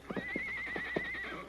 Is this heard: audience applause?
no